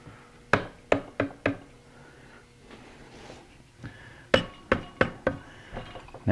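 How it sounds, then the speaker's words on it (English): Sharp taps from a rubber hammer striking a metal part of a Rotax 582 engine, in two quick bursts of four or five knocks separated by a pause. "Get a rubber hammer again."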